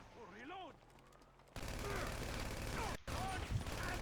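Video game gunfire crackles in rapid bursts and fusillades under loud, overlapping excited voices, dense and continuous through most of the moment.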